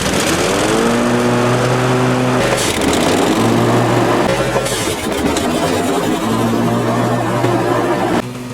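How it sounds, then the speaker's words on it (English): A Cub Cadet ZT1 50 zero-turn lawn mower engine revs up to full operating speed before the PTO engages, loud and close with steady harmonic pitch that dips and climbs again. "revving the engine up to full operating speed and then engaging the PTO"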